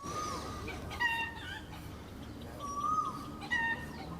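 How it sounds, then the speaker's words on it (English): Birds or chickens calling near a canal and temple in Bangkok, several short shrill cries in bursts over a steady outdoor background, moderately distant and fairly faint. "Do you hear the birds? They're extremely loud."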